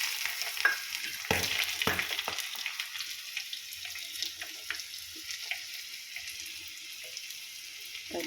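Dry red chillies fry in oil while a tomato pachadi is being made, giving a fairly quiet, crackling sizzle with scattered sharp pops and clicks that thin out over time.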